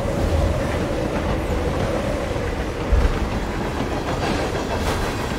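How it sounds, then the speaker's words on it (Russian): A train rolling along rails in the video game Hitman 3, a steady low rumble with faint rhythmic clatter and a few soft knocks, continuous and moderately loud with no voices. "То есть все это время мы ехали на поезде."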